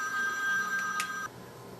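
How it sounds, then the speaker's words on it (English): A telephone rings in a room, a steady electronic tone held for just over a second with a faint second chirp, then cutting off abruptly. "And there goes my phone"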